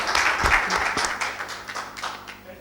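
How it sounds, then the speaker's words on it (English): Audience clapping at a military technology seminar on battlefield digitisation, a dense patter of many hands filling a short stretch and gradually thinning toward the end. "You can clap for that"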